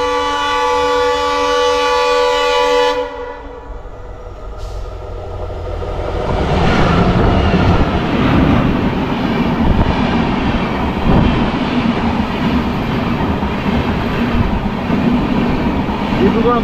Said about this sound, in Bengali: ক্রসিং আছে train number 12423 Dibrugarh new Delhi রাজধানী এক্সপ্রেসের